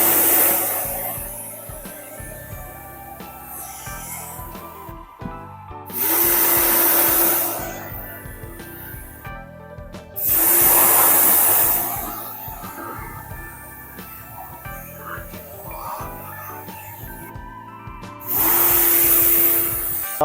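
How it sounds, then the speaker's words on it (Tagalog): An electric blower blasts air to clean parts of an AUX split-type air conditioner, in three loud, steady bursts of a few seconds each, separated by quieter background noise. "Kailangan sa blower, hawakan nyo yan kasi hindi pwedeng umiikot yan habang binubugaan."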